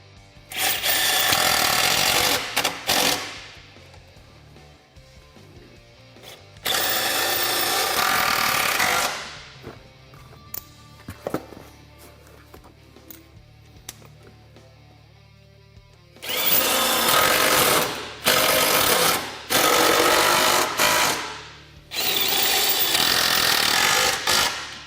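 A power driver whines in loud bursts as it sets self-tapping screws into a Honda Talon 1000 ATV skid plate, several separate runs of a few seconds each with quiet gaps between.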